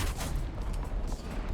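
Rapid autocannon fire from the OTOMATIC anti-aircraft gun in War Thunder, a dense, loud, continuous burst of shots rolling through the whole moment with no talk.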